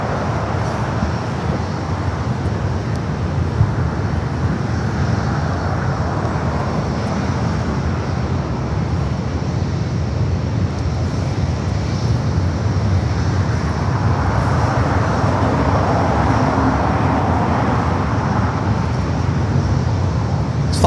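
Airliner on approach into Los Angeles LAX, arriving from Newark, heard as a steady, broad jet roar that holds at a constant loud level and swells slightly toward the end, with no talk over it.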